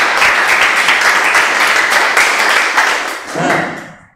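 A classroom of students bursts into brisk, loud clapping that runs for about four seconds, close and dense, then trails off with a few final claps.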